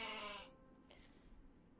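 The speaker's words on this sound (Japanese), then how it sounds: "メイメイは嬉しそうにメイと人泣きすると、ヤギユのような足を大股に広げ歩み出す" A goat-like creature in a fantasy role-playing game lets out a single short, tonal bleat at the very start, close and clear, and then the sound fades into quiet background.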